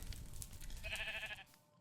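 A sheep in the video game Minecraft, in the FTB Skies Expert modpack, gives a single short, wavering bleat, faint against low background rumble and ending in silence.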